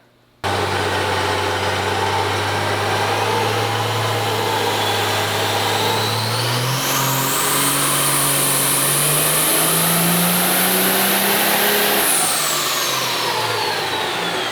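A 900-horsepower regular cab short-bed truck engine with boost leaks runs loud and close through a pull, its drone climbing steadily in pitch with a rising turbo whine before easing back, and no voices heard.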